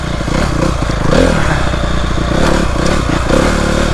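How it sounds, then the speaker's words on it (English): A dirt bike engine revs in first gear over rutted ground, loud and close with throttle surges and rattling clatter from the bike, no talk. "I'm giving it some gas and I'm still in first gear."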